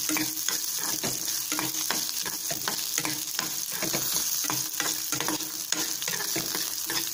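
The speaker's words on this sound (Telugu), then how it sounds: "అలాగే ధనియాలు కూడా వేసి ఫ్రై చేసుకుందాం." Coriander seeds fry in a pan with garlic for a coconut chutney, giving a steady close sizzle broken by scraping stirs of a spoon, with no one talking.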